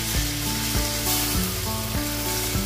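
A ketchup, Worcestershire and soy sauce mixture bubbles and sizzles steadily in a pan, with soft periodic stirring knocks and no voices.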